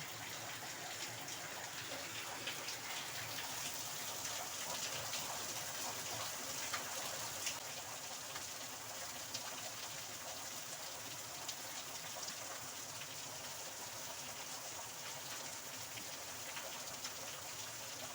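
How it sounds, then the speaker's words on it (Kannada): Steady, dense hiss of heavy rain pouring down continuously, a broad wash of water noise with no voices. "ಜೋರು ಮಳೆ ಬರ್ತುಂಟು"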